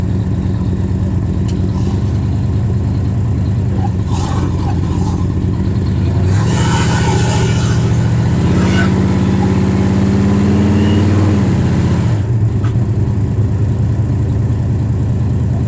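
A Dodge Dart with an exhaust resembling glass packs idles with a low, steady burble, then revs up and holds higher for several seconds before settling back to idle, loud and close.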